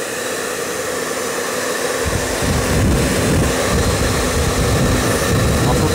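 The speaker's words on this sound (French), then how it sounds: "Avec un vieux sèche-cheveux bien chaud," An old hair dryer on a hot setting blows at close range to heat a PlayStation 3 console, a loud, steady roar that grows fuller after a couple of seconds.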